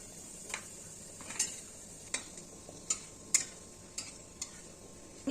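Black cumin dropped into hot oil with a dried red chilli in a pan, a soft steady sizzle under a series of light metallic taps and clicks from a spoon at roughly regular intervals, close but quiet, no speech.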